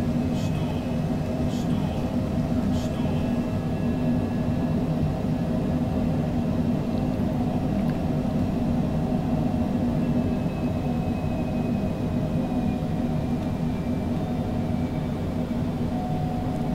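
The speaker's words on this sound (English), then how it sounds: "Engine's complaining a little bit about the torque, but that's okay." Cessna Citation Longitude jet engines in Microsoft Flight Simulator during a go-around, a steady loud drone with a faint high whine, continuous and unchanging from start to end.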